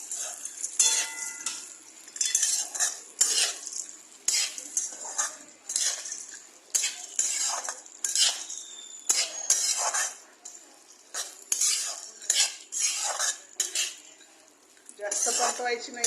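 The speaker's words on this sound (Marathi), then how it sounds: "3 वाटी काजू आणि बदाम आहे आणि थोडे तुपात परतून घ्यायचे" A metal spoon stirs cashews and almonds roasting in ghee in a pan, making continuous scraping clinks and rattling taps against the metal in an irregular rhythm, close and clear.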